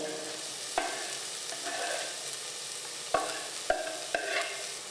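Leek whites sweating in butter and olive oil give a soft, steady low sizzle, broken by a few sharp utensil taps as they are stirred in the pan.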